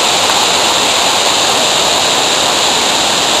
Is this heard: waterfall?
yes